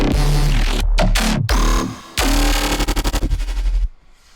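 Jump-up drum and bass basses play in a full mix, with aggressive, growling bass stabs, sudden drops and a rapid stuttering burst near the end, loud and dense with no talking.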